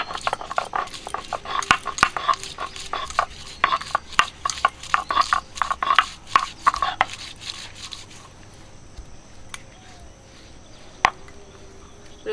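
A large garlic is crushed on a grinding stone with quick, rhythmic scraping strokes close up, which stop after several seconds and leave a quiet background of chirping insects.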